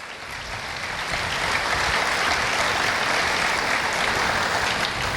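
Loud, sustained applause from a large church congregation, building quickly and holding steady throughout with no talking over it.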